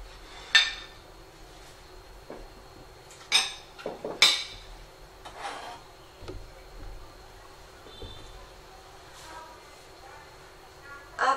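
Utensils clink and tap on a plate as cooked mustard greens for beef porridge are served, scattered light knocks and scrapes under a nearby voice talking.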